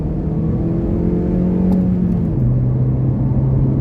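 A 2008 Honda Civic LX engine pulls in second gear near 4,000 RPM, a loud, steady droning hum heard from inside the car, its pitch dipping slightly partway through.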